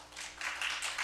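Brief burst of congregational applause at a church New Year revival service, a dense wash of many hands clapping together at moderate level, with no talking over it.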